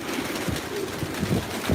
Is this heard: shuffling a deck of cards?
no